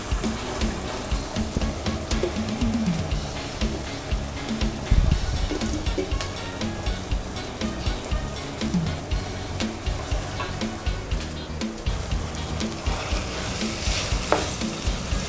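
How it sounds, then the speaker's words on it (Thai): Pork stir-fried in curry paste and coconut milk sizzles loudly and close, with constant rhythmic scraping and clattering of a spatula against the pan throughout and no speech. "ผัดให้หมูเข้ากันดีเลยค่ะ"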